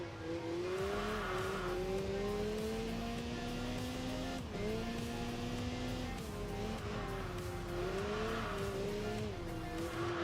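A super lightweight Caterham race car in the Enthusia Professional Racing video game, its engine droning loudly and rising and falling in pitch through gear changes, with tire squeal in the corners and no talking.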